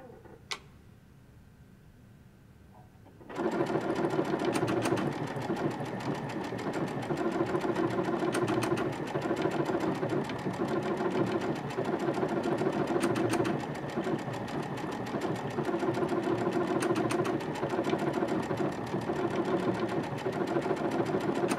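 A Baby Lock sewing machine stitches along a seam with a fast, steady mechanical whir and ticking, close and continuous, starting after a few quiet seconds and running without a break.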